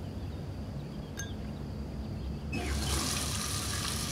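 Tap water starts running at a bathroom sink during a tooth-brushing scene in the video game Heavy Rain, a steady close hiss of flowing water that cuts in partway through after quiet room tone.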